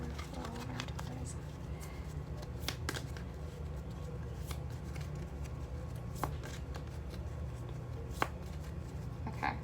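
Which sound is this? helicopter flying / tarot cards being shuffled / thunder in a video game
tarot cards being shuffled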